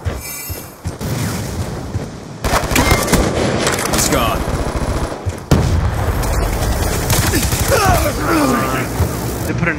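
Rapid bursts of light machine gun fire in a Black Ops 2 team deathmatch, dense and loud, layered with other in-game explosions and effects over nearly ten seconds.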